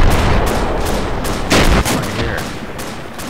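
Gunshots ring out in a realistic first-person shooter video game: a steady stream of close, loud, sharp cracks, with one heavier burst in the middle and a brief voice near the end.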